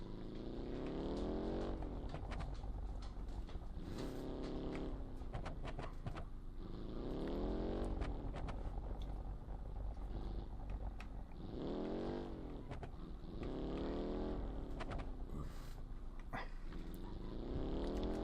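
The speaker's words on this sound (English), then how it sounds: "You can actually hear the cobblestone go across the tires, which is really cool." A car rolls over cobblestone pavement in BeamNG, the tires drumming a continuous rough rumble while the engine rises and falls through repeated revving sweeps, steady and close throughout.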